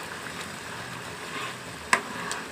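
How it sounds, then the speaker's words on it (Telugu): Tamarind bubbling in hot peanut oil while cooking down for a stored pickle, a steady faint sizzle and crackle with one sharper pop partway through, nobody talking. "చూడండి ఫ్రెండ్స్ ఎలా ఉడుతుందో చింతపండు ఇలా ఉడకనివ్వాలి బాగానే"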